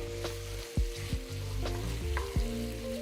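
A spoon stirs chicken ramen sauce in a hot pan, producing a soft ongoing sizzle broken by several distinct scraping strokes against the pan, close and fairly quiet, with a steady low hum underneath.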